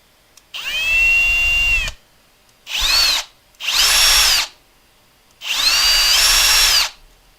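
A power drill threading onto a rocket motor tube runs in four loud, close bursts of a second or so each, whining steadily with short silent pauses between them.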